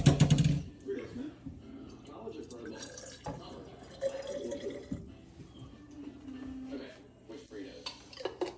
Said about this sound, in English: you rinse out the tomato sauce cans, you mix it